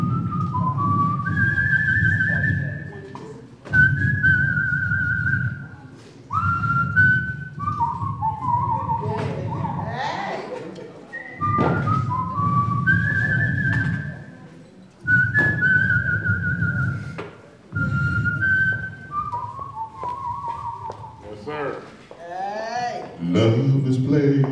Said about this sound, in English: I'm gonna whistle the first part first.